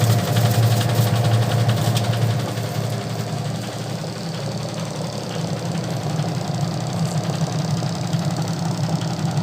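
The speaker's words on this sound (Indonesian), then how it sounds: "Jadi untuk pengering sama pulsatornya muter semua ya" A single-tub automatic washing machine rewired to run manually, its spin dryer and pulsator both turning: a steady, loud motor drone with a rattling, knocking hum that holds throughout, with no voices.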